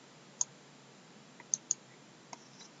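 A computer mouse clicking on a Windows Server settings dialog, five sharp, isolated clicks, two of them close together, against a quiet background.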